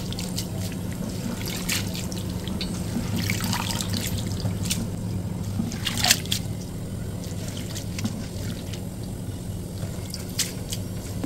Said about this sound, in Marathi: त्यानंतर 2-3 पाण्यातून अशी व्यवस्थित धुवून घ्यायची आहे